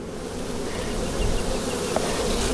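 Angry honey bees buzz densely around an opened hive during a honey harvest, a loud, steady swarm drone filling the whole stretch without pause.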